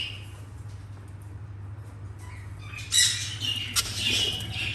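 Young birds squawk in short, harsh bursts over a steady low hum, a few calls clustered close together near the end.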